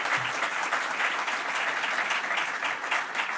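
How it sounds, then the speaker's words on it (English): Sustained applause from a crowd, dense steady clapping filling the space for a few seconds. "let's give another round of applause to our County Executive, Jen Metzger."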